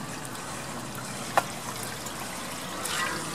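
Water trickles and drips off an outdoor weatherproof projection screen just sprayed down with a garden hose, a steady soft wash of running water with one brief sharp splash, close and alone.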